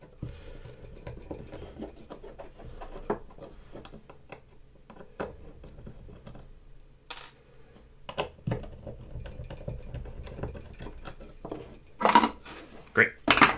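Metal clasp being pried and removed from a small wooden box, a run of scraping, clicking and tapping sounds with sharp metallic clinks near the end, close and alone with no talk.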